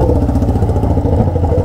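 A Yamaha XJ6 motorcycle fitted with a stainless steel exhaust runs with a steady, rumbling engine note, loud and close, holding an even throbbing rhythm throughout.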